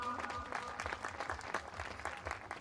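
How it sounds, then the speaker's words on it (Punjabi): A church congregation claps together in a hall, giving a brief burst of fairly loud, irregular applause with a faint murmur of voices underneath. "ਇੱਕ ਵਾਰ ਨੇ ਆਪਣੀ ਤਾਲੀ ਮਾਰੋ ਜ਼ੋਰ ਦੇ ਨਾਲ"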